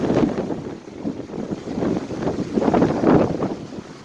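Strong wind at Alamitos Beach on San Pedro Bay buffets the microphone in a continuous, loud, low roar that swells and eases, with no voices.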